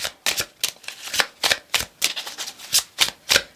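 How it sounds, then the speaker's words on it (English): A deck of tarot cards shuffled close up, a rapid series of crisp riffling bursts repeating roughly every third of a second, with no voices. "Let's do some more real-time shuffling."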